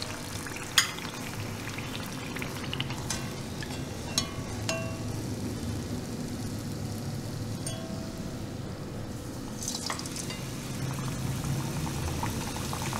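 Mutton samosas deep-frying in hot oil over a low simmering flame, a steady bubbling sizzle running throughout with a few faint clinks near the start.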